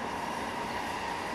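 A train passing on the railway by Tomteboda in the early evening, heard as a steady, dense rushing roar that fills the whole short stretch without a break.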